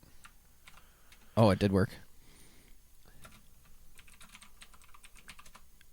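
Keys clatter on a computer keyboard as text goes into Google Translate, a quick rattling run of taps that resumes after a short spoken remark.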